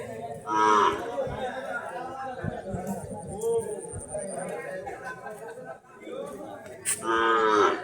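Cattle at a busy village market low and moo near by, with loud bellows at the start and end while people chatter and talk throughout.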